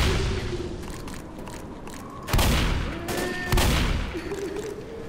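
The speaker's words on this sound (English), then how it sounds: "Meanwhile, there's all this gunfire going on." Gunfire in the Left 4 Dead video game, with a continuous rattle of shots and two heavy bursts that punch out louder partway through, over a sustained noisy in-game background.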